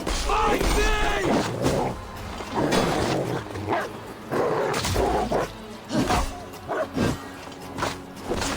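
A dog, an Irish wolfhound, snarls and barks in a fight scene in the video game Assassin's Creed Valhalla, with repeated bursts among game sound effects and clashing footsteps, loud and close throughout.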